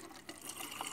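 Liquid mixture pours briefly into a spray bottle, a faint, soft steady trickle with no voices.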